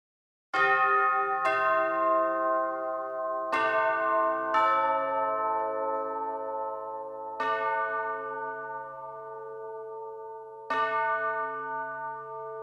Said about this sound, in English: it is difficult to express my enthusiasm for the new orchestral bell ensemble